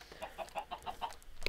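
Chickens in Minecraft clucking in a quick series of about seven short, evenly spaced clucks, faint and close, with a slightly louder clutter of sound at the end.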